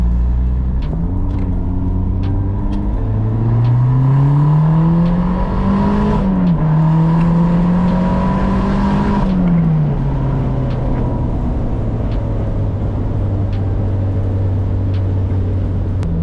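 A turbocharged Mazda ND Miata pulls hard, its engine note climbing through the revs, dipping briefly at a shift, then settling into a steady drone, loud and continuous from inside the car.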